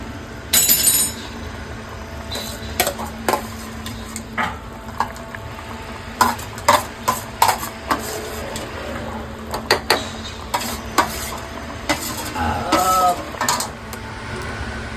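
Chicken masala with a ground spice paste cooking in a pan, giving a low, steady sizzle broken by scattered metallic scrapes and clinks of stirring spread throughout.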